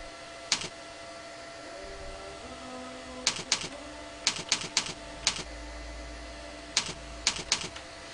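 Keys struck on a computer keyboard while entering code, sharp clicks arriving singly and in quick clusters of three or four, with quiet gaps between, over a low steady room hum.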